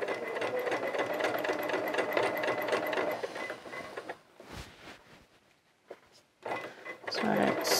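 A sewing machine stitches steadily in a fast, even mechanical chatter while sewing an Eden coverall, then stops as someone speaks in a quieter stretch, with the machine briefly starting again near the end.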